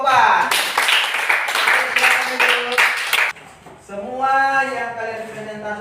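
A classroom of sixth-grade students clap for a presenting group, a dense patter of hands for about three seconds that then gives way to voices talking.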